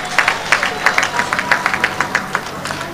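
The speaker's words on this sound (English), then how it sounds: "Give them a good round of applause." An audience claps for the speakers at a live event, with quick, distinct handclaps in an uneven rhythm. The applause is close and fairly loud, and a few voices murmur faintly underneath.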